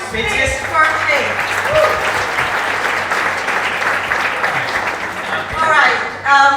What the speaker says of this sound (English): please once again give a big applause